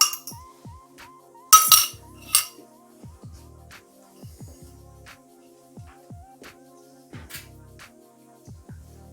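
A spoon clinks repeatedly against a pot while pumpkin and coconut milk soup is stirred on low heat, in a steady scraping rhythm of light knocks with a couple of sharper clatters, close and with no talking.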